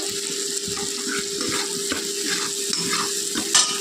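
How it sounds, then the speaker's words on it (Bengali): Coriander powder and chilli powder fry in a pan with a steady, close sizzle and crackle while a utensil stirs and scrapes through them. "মশলাটা একটু ভাজা ভাজা করা মানে কষানোর জন্য দিয়ে দিচ্ছি একটু জল"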